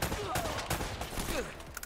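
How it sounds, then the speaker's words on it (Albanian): Bursts of AK-47 gunfire in the Uncharted video game, a steady rattle of shots running through the clip, mid-distance and fairly quiet, with faint game sounds in the background. "AK-47."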